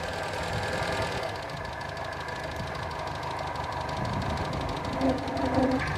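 Reliant Fox engine idling on a stand while its choke is reduced, a steady close mechanical chatter with rapid ticking and a slight change in tone partway through, no voices.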